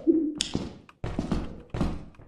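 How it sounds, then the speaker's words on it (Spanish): A heavy door in Lethal Company bumps and thuds open, a short creak followed by two dull knocking impacts, close and fairly quiet. "Se abrió una puerta de estas."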